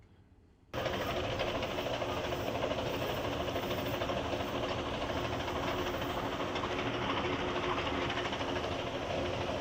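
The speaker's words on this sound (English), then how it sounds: "Train ride was great." A train rolling along its rails gives a loud, steady rumble that begins abruptly after a short quiet moment and continues without a break, with no talking over it.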